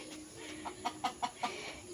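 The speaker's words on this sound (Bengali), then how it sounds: "একটা মুরগি আছে, দুইটা মুরগি আছে, একটা মোরগ আছে" Short clucks from desi hens and a rooster inside a chicken house, five quick soft calls at a steady pace over a faint background hum.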